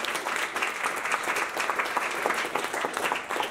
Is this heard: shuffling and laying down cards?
no